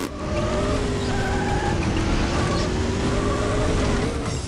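Race car engine droning steadily in Need for Speed 2 SE, its sustained tone rising and falling slightly as the car is driven, loud and continuous without talk.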